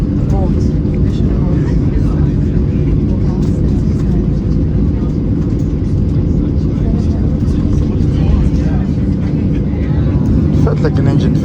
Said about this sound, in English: Felt like an engine failure before takeoff.